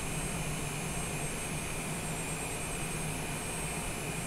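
Jet airliner engines in a flight simulator game produce a steady, loud, unbroken roar with a constant whine on top, no voices.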